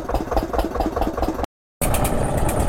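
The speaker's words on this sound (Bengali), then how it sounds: "এই যে এখান থেকে একটা নৌকা ছাড়ছে" A boat's engine runs steadily with a loud, rough mid-range drone as the boat pulls away from Dhalai Road ghat on a river island in West Bengal, with a brief dropout midway.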